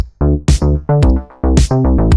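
A punchy, funky loop with tight rhythmic hits and bright harmonic stabs, repeating twice over about two seconds, loud and upfront with no voices.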